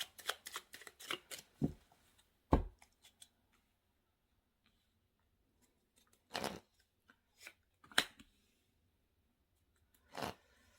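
Tarot cards are shuffled and drawn in a quiet room: a quick run of crisp riffling flicks, then isolated sharp card snaps and slides separated by silence.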